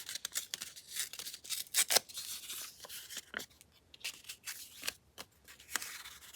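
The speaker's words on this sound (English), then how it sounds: "Okay, I'm just going to tear it." A paper index card is torn by hand in a run of short, crisp rips and rustles, close and fairly quiet, with a few pauses between pulls.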